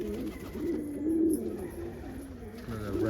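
Homer pigeons in a loft give a low, continuous run of cooing, several birds murmuring together at moderate loudness with no voices over them.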